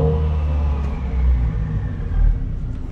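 A Subaru WRX revs and drives nearby in a steady, rumbling engine drone that swells and eases over a few seconds, with no talking over it.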